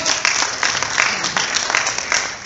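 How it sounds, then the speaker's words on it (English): Audience at a high-school after-prom hypnosis show claps for volunteers on stage, brisk, dense clapping with a few sharper individual claps standing out, steady throughout. "Give them a nice round of applause"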